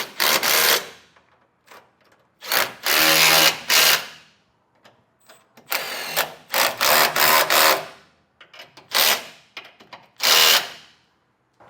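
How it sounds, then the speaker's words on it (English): An impact or power tool snugs down hardware with a 3/4 inch socket while installing TorkLift camper rear tie-downs on a 2024 Chevrolet Silverado, sounding in several loud bursts of about a second each, separated by short pauses. "come back with a 3/4 inch socket and snug everything down."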